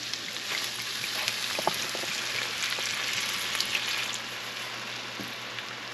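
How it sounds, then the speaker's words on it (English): Wine splashed into a hot pan of cod sizzles and fries steadily at moderate volume, a constant crackling hiss with scattered sharper pops and no voices. "Now I'm going to add some vino."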